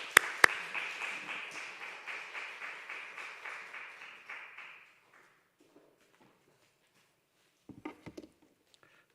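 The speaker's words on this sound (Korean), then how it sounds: "박수로 한번 좀 축복하며 환영하겠습니다." A church congregation at a Wednesday prayer meeting claps to welcome a speaker, a soft, fairly distant round of clapping with a regular pulse that fades out after about five seconds, followed by near silence and a few small knocks.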